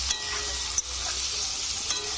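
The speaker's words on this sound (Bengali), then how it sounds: "প্রথম শিমগুলো আমি ভেজে নেব।" Beans sizzle and crackle as they fry in a pan for Bengali korai shak, a steady broadband hiss with occasional stirring clicks, close and fairly loud, no voices.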